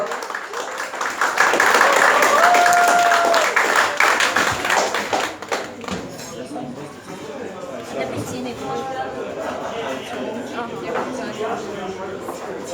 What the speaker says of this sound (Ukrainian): Давайте оплески, друзі, максимально вам.